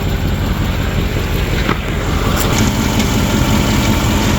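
A Mercedes-Benz ML430 V8 engine idles steadily at close range, a continuous low rumble with an even hum and no talking.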